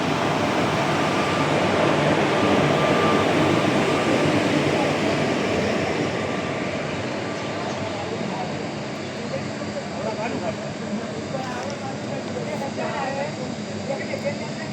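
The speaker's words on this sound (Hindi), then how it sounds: "इसको परफेक्ट वैप 4 लोकोमोटिव जो दिया गया है हावड़ा शेड का" A passenger train hauled by a Howrah-shed WAP-4 electric locomotive on the Howrah–Raxaul route rumbles past close by, its loud, steady roar of wheels and rails easing slightly over time as a voice speaks over it.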